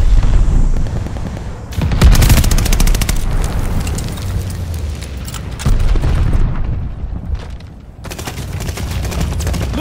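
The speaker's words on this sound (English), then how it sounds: "Bombing run inbound." Bombing-run explosions and gunfire in Call of Duty: Vanguard, a dense, loud barrage of heavy booms and rapid shots that rises and falls across the stretch, with brief lulls between rolling blasts.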